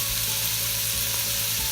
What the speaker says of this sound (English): the oil heated up pretty nice, it'll help the turkey cook through and maybe even get a little browning going on